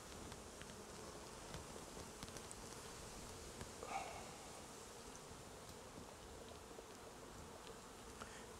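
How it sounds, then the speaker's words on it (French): A steady, low buzzing hum of many honey bees crowded together on a hive frame, continuous and close, with no voices. "On a des abeilles qui sont bien accrochées au cadre"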